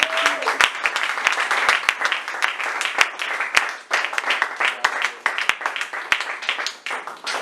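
Sustained applause from a church congregation, dense clapping with sharp individual claps standing out, steady and fairly loud throughout with no talk over it.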